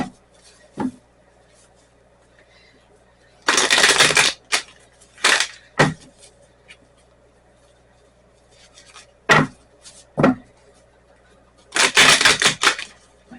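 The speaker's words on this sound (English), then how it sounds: "Now, we're going to get the energy oracle cards." Energy oracle cards shuffled in a few separate bursts of crisp, riffling friction, each lasting about a second or less, with quiet pauses between them and no talking over them.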